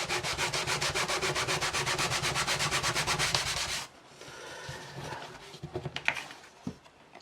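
Steady rhythmic rubbing as the rough side of a small kitchen sponge scrubs back and forth across a playing card, quick even strokes for about four seconds, then softer, irregular scuffing.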